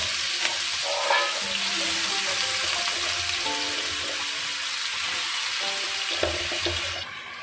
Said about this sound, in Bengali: আর আমি এখন একটু আলু ভাজা করবো রাতে ভাত খাওয়ার জন্য